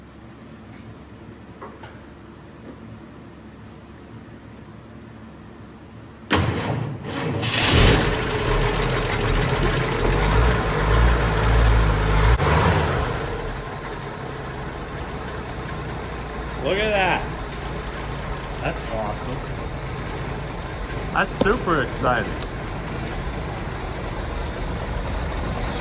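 After a quiet stretch, the engine of a 1971 Ford F250 truck that sat unused for 22 years cranks and catches abruptly, roaring loudly for several seconds before settling into a steady idle, with a person speaking briefly over it.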